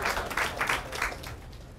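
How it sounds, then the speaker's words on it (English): Audience applause at a historical marker dedication ceremony, a brief wash of many hands clapping that rises quickly and then thins out. "Please feel free to applaud at any time."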